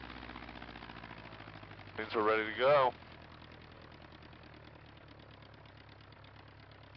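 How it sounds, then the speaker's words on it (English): A light aircraft's piston engine idles on the ground in a steady, low, even putter, heard from inside the cockpit beneath a person talking, with a brief louder burst partway through. "Let the engine warm up just a little bit."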